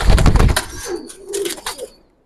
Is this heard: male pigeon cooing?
yes